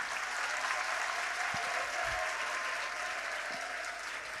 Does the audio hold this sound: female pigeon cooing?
no